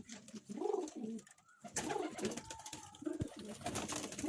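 A pigeon house holding about seventy pigeons. Repeated soft, rolling coos overlap close by, with a brief lull partway and some rustling and flutter, and no talking.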